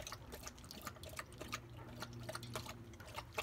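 A dog named Balto laps water in quick, irregular wet splashes and drips, close by and fairly quiet, the rapid licks continuing without pause.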